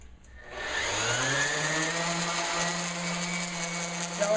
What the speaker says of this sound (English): I round these edges with the sander.